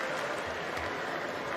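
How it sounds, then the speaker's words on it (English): At an IIHF U18 ice hockey final between the United States and Canada, goaltenders tap sticks and clap amid a dense, steady crowd wash of applause, with no distinct individual taps standing out. "They're tapping their stick and clapping"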